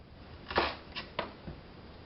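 A knife slices through an onion on a cutting board, giving a few short crisp cuts close by, one longer stroke followed by two quicker ones and a faint last tap, with no talking.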